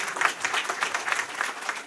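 Sustained audience applause at a political speech in India, dense steady clapping from a crowd throughout with no voices over it.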